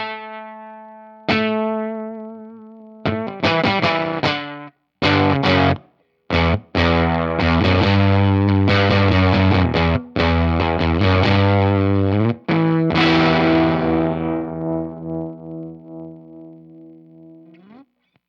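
Distorted, bending electric guitar notes through a Tone Hungry Effects Hunger Bender pedal, played in bursts, pitches warping and wobbling, ending in a long wavering decay that fades out unevenly as the guitar volume is turned down.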